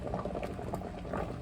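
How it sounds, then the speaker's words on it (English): Water boils in a pot that also holds wax for making egg-carton fire starters, a faint, close bubbling and popping that stays continuous throughout. "It just started to boil."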